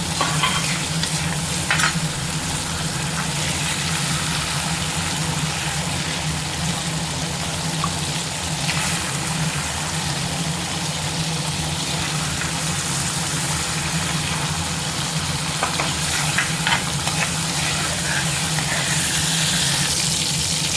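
Onion, tomato, ginger and garlic fry in hot oil, producing a continuous close sizzle with occasional stirring scrapes throughout.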